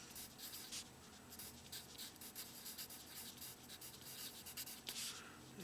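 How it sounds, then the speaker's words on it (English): Pen or pencil writing a fraction by hand on paper, a continuous close scratching with quick strokes and brief lifts, no talking. "I have to write the fraction."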